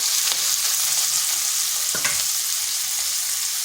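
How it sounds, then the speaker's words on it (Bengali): Yardlong beans fry in a hot pan over high heat with a steady, dense sizzle throughout, broken by a couple of sharp scraping stirs near the start and middle. "3 থেকে 4 মিনিট একটু ভেজে নিলাম"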